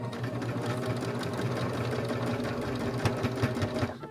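A sewing machine runs continuously at steady speed, its rapid needle chatter and motor hum stitching a folded fabric ear piece for a Disney character costume, close and alone with no talk.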